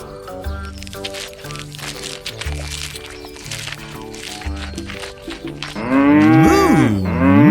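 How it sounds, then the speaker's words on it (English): A big black-and-white cow lets out a loud, drawn-out moo near the end, after several seconds of upbeat background music. "It's a big, black and white cow."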